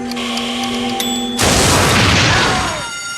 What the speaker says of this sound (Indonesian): Shin telah menyiapkan sebuah jebakan yang membuat dirinya harus merelakan truk miliknya meledak, membunuh beberapa orang penjaga gedung Hyunwoo.